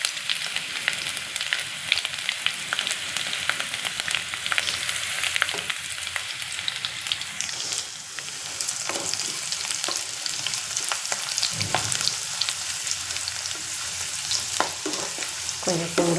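Garlic and asafoetida fry in a hot pan for onion thokku, a steady loud sizzle broken by scraping stirs and occasional sharp clicks of a spoon against the pan, with no voices.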